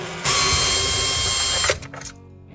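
A power drill fitted with an 11/32 nut driver backs out a screw from a speaker cabinet: a loud, close, steady whir lasting over a second, then a brief rattle as it stops.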